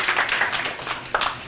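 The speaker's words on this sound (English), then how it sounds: "Yes, applause." An audience at a community flood recovery forum in Ellicott City breaks into brief, moderately loud applause that thins out quickly.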